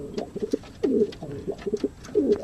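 Pigeons in a breeder loft coo close by in repeated soft throaty bursts, several overlapping calls with short pauses and light rustling in between.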